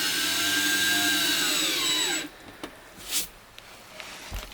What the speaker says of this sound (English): Theo is currently screwing the floor down.